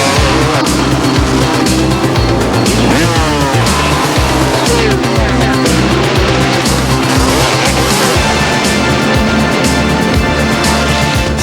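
NASCAR Winston Cup stock cars race at Pocono in 1992, engines roaring loud and continuous with repeated passes and some tire squeal, a dense wall of racing noise.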